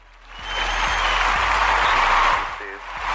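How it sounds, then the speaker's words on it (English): Applause swelling up from a small audience, a short burst of clapping that builds, holds for a couple of seconds, then fades as a voice begins speaking over a low hum. "Let's give her a hand clap"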